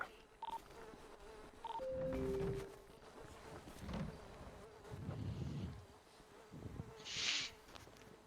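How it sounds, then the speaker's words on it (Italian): Flies buzz in an Italian online roleplay video game, a steady droning insect hum with brief tonal beeps and louder swells, without speech. "Ma che palle, sto rumore di mosche."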